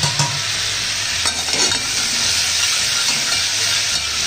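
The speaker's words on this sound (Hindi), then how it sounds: "अब मैं जो है 2 टीस्पून और स्पून आपका जिंजर गार्लिक पेस्ट ऐड कर दूँगा," Ginger garlic paste fries in hot butter and oil for a restaurant-style dal makhani, giving a steady, loud sizzle with spoon stirring and scraping throughout, no voices.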